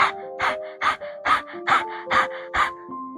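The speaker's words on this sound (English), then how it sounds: "By stretching your tongue out, inhale and start exhaling the same how we did it in the dog breathing." Rhythmic forceful exhalations through the mouth with the tongue stretched out, as in yoga pranayama rabbit breathing, about eight quick puffing breaths in a steady pattern, close and loud.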